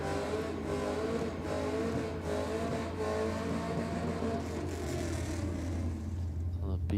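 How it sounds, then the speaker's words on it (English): The Run Amok Commodore drag car at Sydney Dragway doing a high-RPM burnout in the Aeroflow lane, a loud sustained engine roar with tyre noise, and a track announcer talking over it throughout. "Big RPM burnout from the Run Amok Commodore in the Aeroflow lane"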